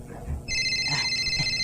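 A cellphone begins ringing partway through, a steady, electronic tone that holds close and clear after a short stretch of low background noise.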